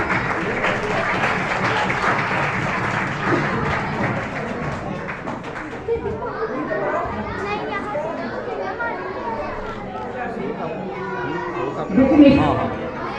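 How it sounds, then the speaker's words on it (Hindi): Church congregation applauding, clapping loudly at first and then fading into chatter and children's voices, with a brief louder burst near the end. "हमने दिल खोल कर तालियां बजानी है।"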